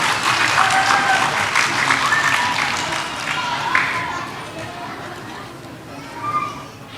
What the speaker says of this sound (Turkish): Ayşe Hoca, Risalet Gül Hoca ve Arzu Gül Hoca'yı alkışlarla sahneye davet ediyorum.